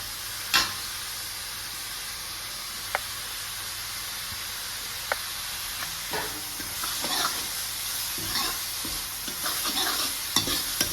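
Onion, garlic, ginger and green chili frying in a pan, a steady close sizzle and hiss broken by occasional spoon scrapes and clicks, with stirring growing busier toward the end.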